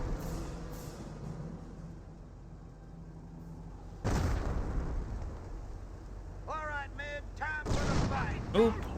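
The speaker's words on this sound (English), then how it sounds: "landmine detonation" A landmine detonating in the Company of Heroes real-time strategy game, a sudden loud blast cutting over a low battlefield rumble, followed by a sustained roar, with a voice talking over it near the end.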